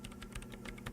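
Soft, rapid keystrokes on a computer keyboard in the video game Disco Elysium, a quick irregular patter of clicks heard close and alone at low volume.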